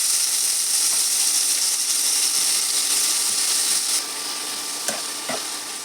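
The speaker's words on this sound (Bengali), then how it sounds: "এবার ওই সর্ষের তেলেই মা যে আলু, পেঁয়াজ, কাঁচা লঙ্কাগুলোকে কুচিয়ে নিয়েছিল সেগুলোই এবার দিয়ে দেবে" Chopped potato, onion and green chilli fry in hot mustard oil, a steady bright sizzle close by, with a few stirring scrapes and clicks of a utensil toward the end as the hiss settles slightly lower.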